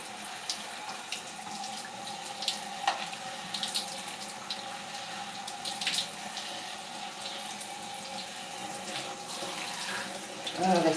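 Tap water runs steadily and close by while hair is being washed, a continuous splashing wash with small spatters and no talking.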